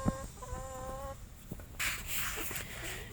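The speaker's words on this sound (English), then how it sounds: "these chickens are just very happy. They don't fight and squabble." Hens cluck and call softly at close range, with a short tonal squawk near the start and quieter clucks and rustling after it.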